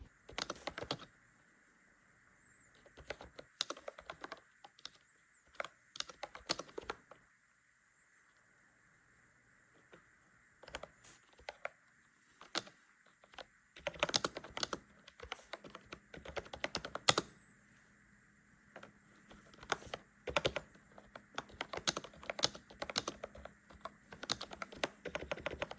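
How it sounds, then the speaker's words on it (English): Keys on an AULA 99-key wireless RGB mechanical gaming keyboard clack in quick, uneven flurries of typing, close and fairly quiet, with short pauses between bursts over a faint background hum. "Most reviews I know on keyboards, they do want to hear the keys, so I'll let you hear them."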